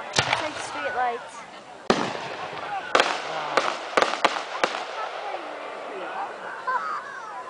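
Fireworks go off outdoors at night, with several sharp loud bangs spread over the span and crackling bursts in between, while people talk excitedly throughout.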